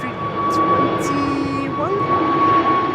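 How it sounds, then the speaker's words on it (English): Two narrow-body jets, an Embraer 190 and an Airbus A321, depart together from separate runways at Schiphol, making a loud continuous engine roar with a steady whine, while people talk over it. "double departure over here. Two narrow bodies from both runways. Embraer 190 and an"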